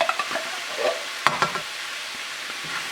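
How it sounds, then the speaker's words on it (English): A spoon stirring tikka masala sauce made with tomato soup and heavy cream in a pan, with soft scrapes, a couple of sharper knocks and faint sizzling, close and quiet. "We're just going to give this a stir."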